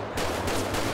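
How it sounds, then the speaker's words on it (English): In the video game GTA 5, a short, dense burst of rapid gunfire crackles for about a second. "Wait, they're shooting each other."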